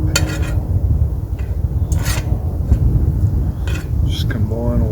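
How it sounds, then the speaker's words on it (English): A utensil scrapes and rubs around a sizzling Dutch oven of curry chicken in steady strokes, with a few sharper metallic clinks, close up and fairly loud. "Just stir all that in."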